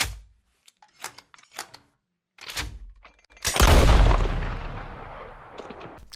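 Gunshot sound effect from the Red Dead Redemption 2 intro: after a few sparse sharp clicks and thuds, one loud, close blast booms at once and then rings out in a long, slowly fading decay.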